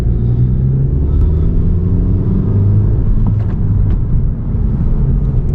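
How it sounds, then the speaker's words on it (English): A car engine on a stock tune, revving and then slowly settling as the revs hang, makes a steady low rumble throughout, close and fairly loud, with no voices. "rev hang is definitely still here. I'll show you guys how bad it is."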